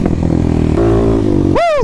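A 2021 Kawasaki KLX300 dirt bike fitted with a Barker exhaust rumbles close by in a throaty idle, then revs sharply upward in a quick rising blip.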